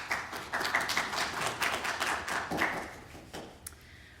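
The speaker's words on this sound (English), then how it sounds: "So please give them your welcome round of applause." A small audience claps in a scattered, steady patter of applause that fades toward the end.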